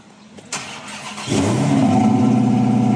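A Dodge Red Eye muscle car engine cranks briefly, then roars to life with a deep, loud rumble that settles into a steady, throaty idle.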